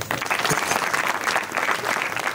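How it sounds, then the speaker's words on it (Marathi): Audience clapping together at a kirtan, dense continuous applause that holds steady at full strength for the whole stretch. "आता इथे तुमच्या टाळ्या पडायला पाहिजे"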